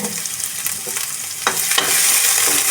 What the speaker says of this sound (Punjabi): ਇਹਨੂੰ ਇੱਕ ਦਮ ਭੁੰਨਾਂਗੇ ਹਿੰਗ ਦੇ ਵਿੱਚ